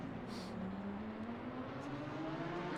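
A Lamborghini GT race car in the sim racing game Assetto Corsa Competizione, at Monza, drones past with a steady engine note whose pitch slowly climbs, continuous and fairly loud with no talk over it.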